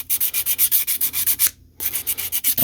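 A hand sands metal on an old Molle No. 3 with 220-grit sandpaper in steady rhythmic back-and-forth strokes, close and even, with one brief pause midway and no talking.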